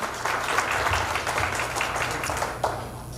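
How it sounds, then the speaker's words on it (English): Audience applause at a live event, a steady wash of many hands clapping at moderate volume for a few seconds with no talk over it. "So how about a big round of applause"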